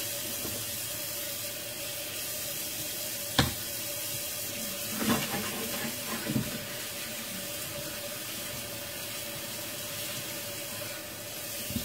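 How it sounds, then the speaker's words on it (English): Something being rinsed under a running kitchen tap, a steady hiss of flowing water, with a few clunks and splashes as the item is handled. It is close and continuous, and no one speaks. "Let me rinse this off."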